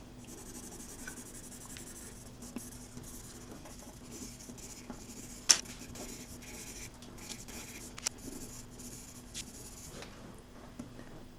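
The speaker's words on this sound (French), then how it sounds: "Si je veux, je peux colorier entre les traits" Crayon or marker colouring in a windmill drawing on paper, a steady faint scratchy rubbing of strokes with a couple of sharper taps, close up and alone against a low background hum.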